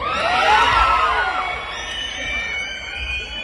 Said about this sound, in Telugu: మీ అరుపులకి రోమాలు ఎప్పుడు దిక్కబడుతుంటూ ఉంటాయి.